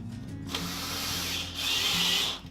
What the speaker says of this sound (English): They just literally push into the plasterboard and then drill slowly